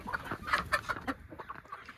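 Healthy backyard chickens cluck in a quick, uneven series of short calls, fairly close and clear, with no talking over them.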